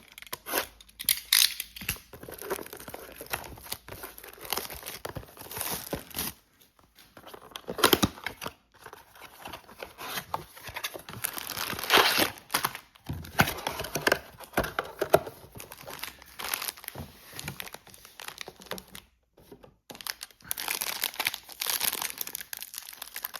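Donruss Football 2024 blaster card packs are torn open with irregular bursts of crinkling, tearing foil wrapper and card handling, close and loud, separated by short quiet gaps.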